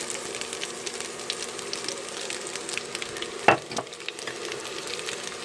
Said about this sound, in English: Preheat your pan. A little olive oil goes in. And then the bok choy.